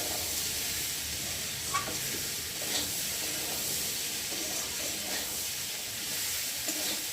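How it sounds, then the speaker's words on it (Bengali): Peas and mixed vegetables sautéing in a pan, a steady soft sizzle and hiss running throughout with a few faint stirring clicks, fairly quiet and continuous, no talking. "মটরশুঁটিটা একটু সবজির সাথে কষিয়ে নেব।"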